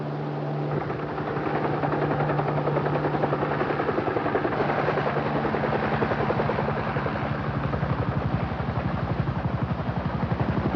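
A helicopter's rotor thumps steadily and loudly, holding a constant rhythmic chop with an engine drone underneath.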